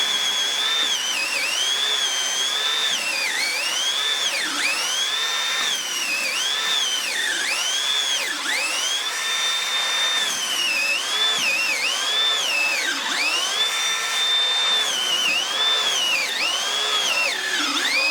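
A Milwaukee 12V hammer drill bores four holes in quick succession, its loud motor whine repeatedly dipping and rising in pitch as each hole is drilled, with no pauses in between.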